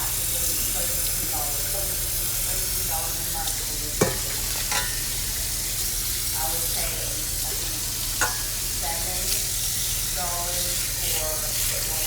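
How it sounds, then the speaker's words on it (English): Soaked basmati rice is rinsed in a colander under running water, a steady close wash of water with occasional clatters of the colander and bursts of speech over it. "I'm going to dump the rice in and rinse all the rice through my colander."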